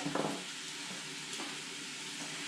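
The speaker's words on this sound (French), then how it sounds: "On laisse revenir les légumes pendant 5 minutes à feu moyen, en touillant régulièrement" Vegetables sizzle in a pan over medium heat for a garden-style coq au vin, with a steady frying hiss and a brief scrape of stirring at the start.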